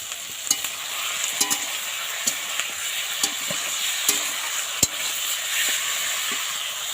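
Meat stir-fried together with potatoes and Malabar spinach in a pan, sizzling steadily while a spoon scrapes and clicks in scattered sharp taps over the frying hiss, close and continuous with no voices.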